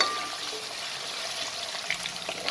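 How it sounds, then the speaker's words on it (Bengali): Diced potatoes sizzle in a pan over high flame, a steady, bright hiss with faint crackles and no talking. "আলুগুলোকে আমি 2-3 মিনিট হাই ফ্লেমে ভেজে নিয়েছি।"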